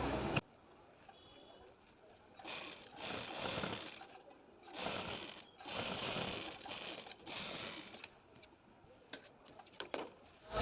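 A sewing machine stitches a sleeve in several bursts of rapid rhythmic needle clatter, close and loud, with short quiet gaps between runs.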